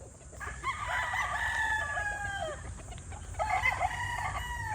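A Black Gilmore gamefowl rooster crows twice in long, bright, strained calls, the second shorter, heard nearby over low outdoor background noise.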